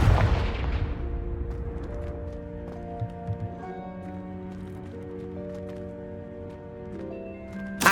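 In the Hogwarts Legacy video game, the Confringo blasting spell bursts loudly at the start and fades into a ringing, tonal shimmer that lingers over a quiet ambient backdrop.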